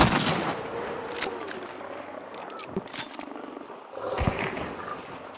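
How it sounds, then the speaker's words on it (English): Gunfire in Hunt Showdown, a handful of sharp, punchy shots and thuds in quick succession amid ambient game noise, loud and close. "He got me with a pistol."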